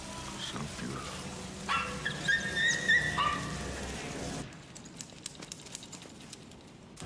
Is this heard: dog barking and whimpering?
yes